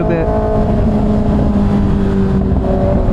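A loud Kawasaki ZX6R motorcycle cruises on the freeway, its engine droning steadily close up with a continuous wind-blasted roar and no break.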